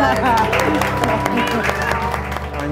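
Audience at a keynote event applauding the speaker Sue Ellen Watts, a steady wash of clapping heard under a presenter's voice as he keeps talking.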